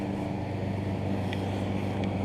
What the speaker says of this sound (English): Vehicles going by here.